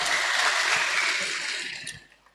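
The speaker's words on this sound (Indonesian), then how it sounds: "Tepuk tangan dulu, tepuk tangan luar biasa" A church congregation claps together in a steady, dense wash of applause that fades out over the last second, with no voices over it.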